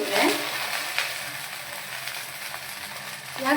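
Cut okra frying in oil with turmeric in a pan, a steady soft sizzle with a few stirring scrapes and louder bursts at the start and end, no talking.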